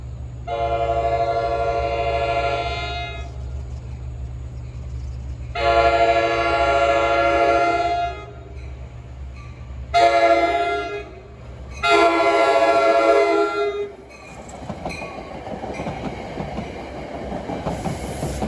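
An NJ Transit train 55, Hoboken to Port Jervis, pulls into Ramsey station on a hot day, its horn sounding in several loud separate blasts over a steady rumble, then wheels clatter nearby as it rolls in.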